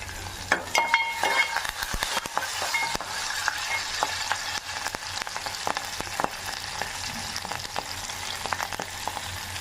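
Curry leaves and crushed garlic fry in hot oil for brinjal curry, giving a steady crackling sizzle with occasional utensil clinks and stirring scrapes, close and continuous.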